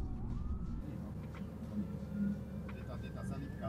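An ambulance siren wails on a Slovak road, heard from inside a car, a thin rising and falling tone beneath steady road rumble while a person talks over it.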